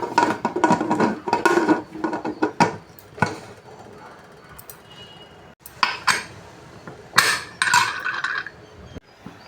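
A pressure cooker lid being closed in a home kitchen, giving a series of loud metallic clanks and clinks with uneven pauses between them.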